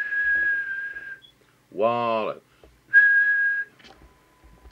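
Sharp, steady whistle into a Maxcom 4E CB radio for a transmit test, two sustained tones separated by a man's short spoken word, close and clear.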